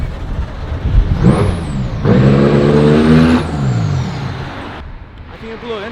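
A car's engine with a suspected faulty intake pipe, heard close as a rough rumble that swells into a louder, buzzing drone for a few seconds before easing off, with people talking over it.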